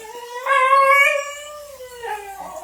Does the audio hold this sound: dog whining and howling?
yes